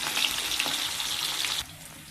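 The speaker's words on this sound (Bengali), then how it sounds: "এবারে কড়াইয়ে আমি আগে আলুটা দিয়ে দেবো। আলুটা একটু হালকা ভাজা হয়ে যাবে।" Potatoes frying in a wok with a little salt, a steady loud sizzle close up that cuts off abruptly near the end, leaving a quieter hiss.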